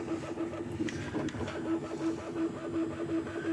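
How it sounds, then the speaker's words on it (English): A Bambu Labs 3D printer laying down PETG badges hums steadily with a repeating high-pitched stepper whine that pulses at regular intervals, close, continuous and moderately loud, with small mechanical ticks. "I'm printing all of this in PETG for outdoor durability"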